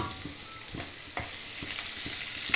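Tempering crackles and sizzles in a pan before Maggi noodles are added, a soft, fairly quiet hiss punctuated by regular spatula scrapes and taps.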